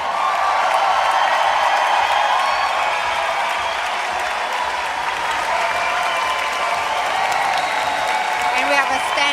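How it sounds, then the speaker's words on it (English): A crowd gives a standing ovation at a professional Latin dance championship, with dense, loud, sustained applause and scattered cheers filling the hall, while an announcer's voice runs over the top. "And we have a standing ovation."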